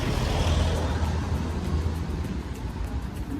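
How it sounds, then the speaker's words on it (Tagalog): Cars and other road vehicles pass along a street in Spain, producing a steady, fairly loud rumble of traffic throughout with no voices. "Ay, pinapadaan pala mga sasakyan niyo."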